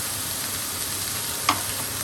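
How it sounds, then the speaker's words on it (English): A whole roughly chopped onion cooks down in a frying pan for tikka masala, sizzling in a steady, even hiss with one brief clink partway through. "Again, we're going to let that cook down as well."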